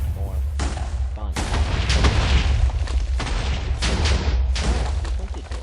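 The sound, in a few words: TNT missile exploding in Minecraft video game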